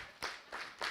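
A forum audience claps in a rhythmic señorita pattern, with three distinct group claps evenly spaced at moderate volume.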